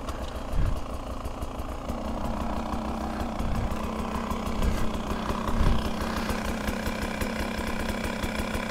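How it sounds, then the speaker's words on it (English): A 2023 Beta 300 Race Edition two-stroke dirt bike idles on a mountain trail, its engine a steady, close, buzzing putter with a few brief revs, running continuously throughout. "Listen to that engine."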